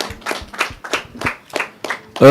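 Evenly timed claps, about seven, ring out close by as applause for a musician, and a voice starts up right at the end.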